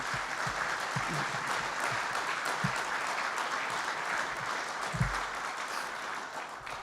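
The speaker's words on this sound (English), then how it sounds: "Another round of applause, please, for the award recipients" Sustained applause from a dinner crowd for recipients at a Marine Corps ground awards evening, steady and dense across the whole stretch with a few louder claps standing out near the end.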